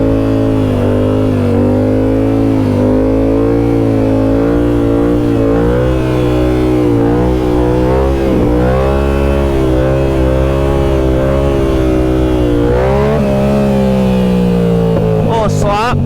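An R7 motorbike engine runs loudly while riding, a dense continuous drone whose pitch wavers up and down, with a rising rev near the end.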